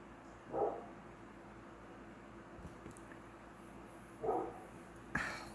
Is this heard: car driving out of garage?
no